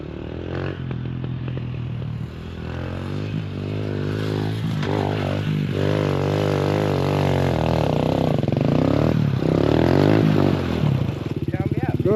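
A Volvo B20 engine revs loudly and steadily as gas is applied, its pitch rising and wavering over about twelve seconds, while people shout and talk close by.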